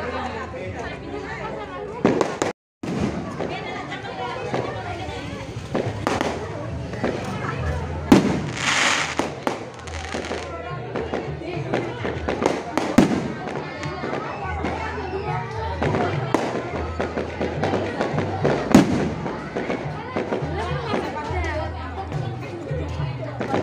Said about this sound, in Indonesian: Pesta kembang api.